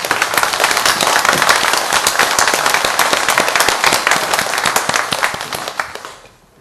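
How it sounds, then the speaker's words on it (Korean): Church congregation clapping in praise to God after a hymn, a loud, dense and sustained burst of many hands that holds steady before trailing off quickly in the final second. "우리 하나님께 영광의 박수 올립니다."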